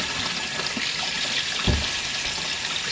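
Water pours steadily into an RV washing machine filling during a rinse, a constant close gushing hiss with a faint low gurgle partway through.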